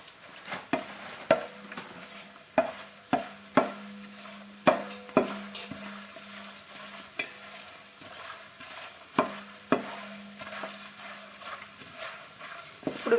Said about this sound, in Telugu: ఇప్పుడు ఈ జొన్న చిప్స్ వేసుకొని వేయించుకోవాలి